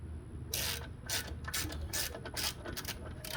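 Ratchet loosening an 18 mm bolt on a 2013 Dodge Charger 5.7-liter Hemi engine during a water pump and thermostat job: rapid, close clicking bursts of the pawl in several quick strokes, loud and clear with no talk.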